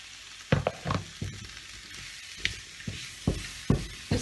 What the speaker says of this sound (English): we're going to let this stir fry